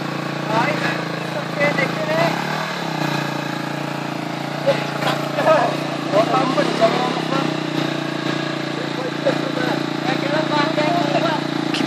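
Enduro motorcycle engine droning steadily while riding a rough trail in Wales, with fluctuating revs throughout and occasional voices in the background.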